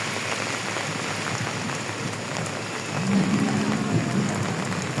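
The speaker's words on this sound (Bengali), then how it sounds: "বৃষ্টি কিন্তু ভালো জোরে পড়তেছে" Heavy rain falls continuously on an outdoor cattle and goat market in a thick, even roar, with a faint low tone surfacing briefly partway through.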